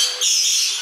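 Birds calling inside a wildlife park aviary, a bright continuous chorus of high-pitched squawks and chirps heard up close, loud and without talk.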